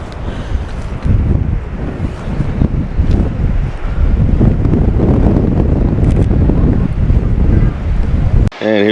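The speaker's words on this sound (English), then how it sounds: "It's kind of windy up here." Strong wind buffets the microphone at a glacier overlook above an outwash plain in Seward, Alaska, roaring in heavy gusts that hold loud and close for most of the time before cutting off near the end.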